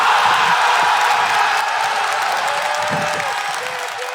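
Steady roar of applause and cheering from a live crowd reacting to a Tetris: The Grand Master performance, dense and continuous throughout without a break.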